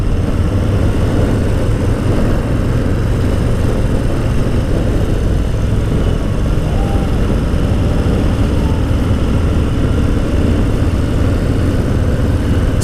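A Harley-Davidson Low Rider S, set up with high foot pegs, is ridden with a steady, loud low engine rumble and wind roar, continuous throughout with no talk.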